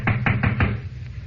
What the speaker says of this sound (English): I'll need you to knock on the door, Corvio.